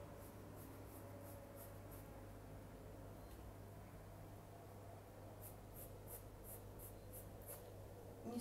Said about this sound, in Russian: Берем черный линер или гелевую ручку. Тонкими, легкими штрихами начинаем отрисовывать наш